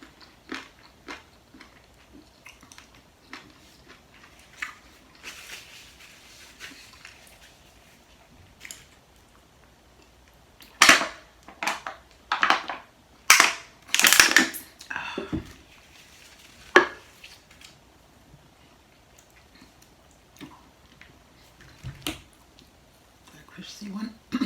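Crispy Chinese chicken wings with sweet and sour sauce are crunched close to the mic in a burst of loud bites around the middle. Softer chewing and smacking fill the quieter stretches on either side.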